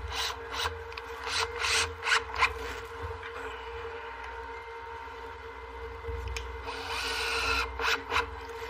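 A power drill drives a screw into wooden trim, its motor whirring under intermittent bursts of grinding and ratcheting friction, close and fairly loud, with a quieter pause in the middle.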